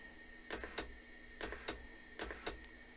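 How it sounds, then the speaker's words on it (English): Fuel injectors clicking on a budget DIY injector tester, dual-cone injectors firing in short paired sharp ticks repeating at about one-second intervals over a quiet steady hum, close and distinct. "here's a more up close look at the injectors spraying"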